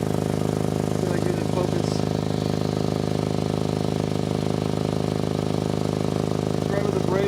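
A Volkswagen MK7 Golf R idles with an exhaust leak at the braided section of the exhaust, a steady, close droning hum that never changes, while someone talks over it.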